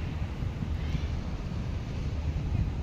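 Gusty wind blowing by the seaside during a hike, a low, constant rumble buffeting the microphone with no clear voices.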